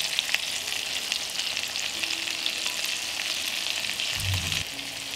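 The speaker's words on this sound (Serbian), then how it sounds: "i nastaviti još par minuta da pržim sve ovo na nižoj temperaturi." Salt, pepper and sweet ground paprika frying in a pan, with chopped garlic about to go in, give a steady close sizzle, with a brief low clatter near the end as the mix is stirred.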